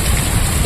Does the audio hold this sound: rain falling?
yes